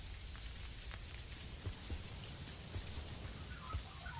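Rain falls steadily in the farming game Dinkum, a soft, even hiss with faint drip-like ticks, low and continuous with no voices.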